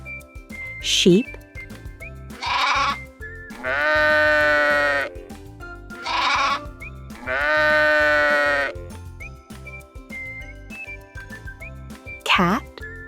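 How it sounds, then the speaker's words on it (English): Sheep bleating in a farm-animal sound sequence, with several loud, wavering bleats spaced across the clip, some short and some drawn out, heard alone and close. "sheep, sheep,"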